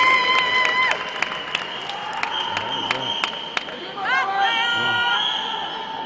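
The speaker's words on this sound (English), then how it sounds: "I think it's fair to say that we have a capacity crowd on hand." A capacity crowd at the women's swimming final of the 2014 Modern Pentathlon World Championships in Warsaw cheers and shouts, with whistles, claps and a broad chatter spread through the indoor pool hall.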